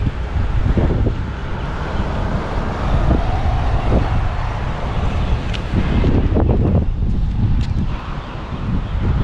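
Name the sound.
strong wind outdoors in Newcastle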